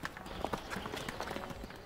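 Herd of cows trotting back to the shed along a one-kilometre track, a steady patter of many hooves with irregular clip-clop accents, moderately close and continuous, no voices.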